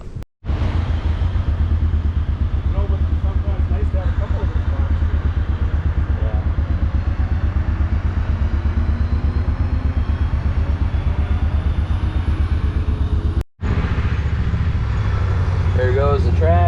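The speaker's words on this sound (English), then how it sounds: "There goes the tractor." A loud, heavy tractor engine rumbles steadily close by with rattling clatter during a corn silage harvest, a brief gap near the start and another later, then keeps chugging.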